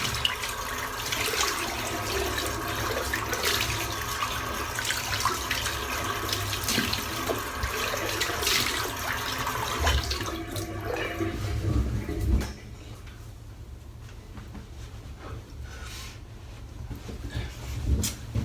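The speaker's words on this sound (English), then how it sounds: "Right, I'll just rinse that off." Shaving gear rinsed under a steadily running tap, a continuous close splashing wash of water that thins out to a quieter trickle near the end.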